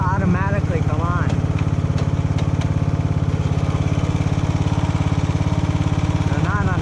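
A riding lawn mower engine runs close by with a loud, steady, rapid chugging throb. Voices talk over it at the start and end.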